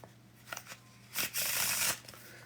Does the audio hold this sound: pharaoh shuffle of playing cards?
yes